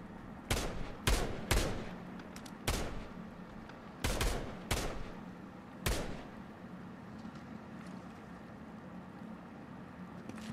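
Gunfire in Fortnite near a shark: several sharp, loud single shots and short bursts spaced irregularly over a low rumbling background, with no voices.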